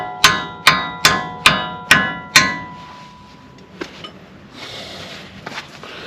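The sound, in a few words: driving a new brake caliper into place on a 1977 Ford F150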